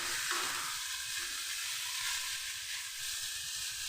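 Cauliflower paratha filling fries steadily in a pan over a medium gas flame, a dense, even sizzle with faint stirring scrapes running continuously at close range, with no voices.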